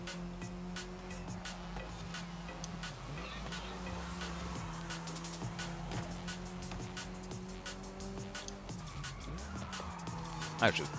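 A car in Forza Horizon 5 brakes hard into a tight corner on a lap race. A steady engine drone runs under a long tire skid, with a louder scrape near the end.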